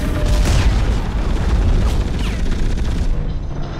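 A mounted turret in the Hawken mech game fires in a heavy, continuous run of booming blasts and rumbling impacts, loud and close, with a few sharper pops before it drops away at the end.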